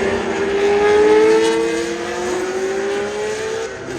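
A classic John Player Special Lotus Formula 1 race car drives by with a loud, high-pitched engine note that climbs through the gears and holds close, then eases slightly toward the end.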